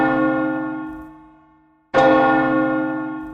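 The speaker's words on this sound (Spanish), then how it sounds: "tocaremos las campanas de la iglesia para que salgan de sus casas" A church bell tolls twice, each strike ringing out with a rich, sustained hum that slowly fades before the next stroke, close and loud with no voices.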